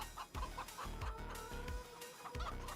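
Chickens cluck repeatedly inside Farming Simulator 25, a busy flock of game hens with short, overlapping calls recurring in a steady rhythm, close and fairly loud with no talking.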